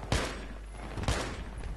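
Two sharp gunshot bursts from Battlefield 3 gameplay, each a sudden crack with a short decaying tail, spaced about a second apart and fairly quiet.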